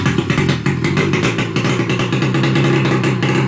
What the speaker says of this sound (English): That's a pretty nice sounding 2-stroke